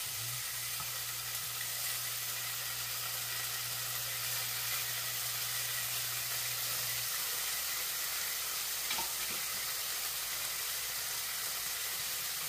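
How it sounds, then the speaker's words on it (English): Bacon fries in a pan on a stovetop, a steady, close, broadband sizzle and hiss that holds evenly throughout, with a faint low hum in the first half and no talking. "so I'm going to lay in my bacon."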